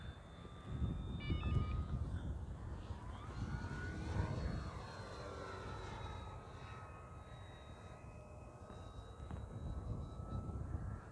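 A Dynam Focke Wulf Fw 190 RC plane flying at full throttle, its steady electric motor whine sweeping up and down in pitch as it passes, moderately distant and continuous, with outdoor wind noise.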